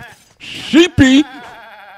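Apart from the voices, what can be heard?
sheep bleating in the video game Zelda: Breath of the Wild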